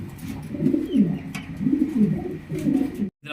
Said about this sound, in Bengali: আজকে এই সিঙ্গেল কবুতরটা দেখেন